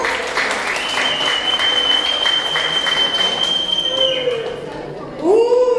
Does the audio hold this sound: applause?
yes